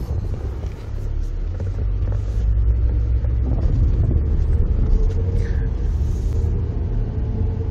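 Steady low rumble of a 2018 Chevy Malibu on a test drive, reduced engine power with several fault codes, the engine and road noise droning evenly throughout with no talk.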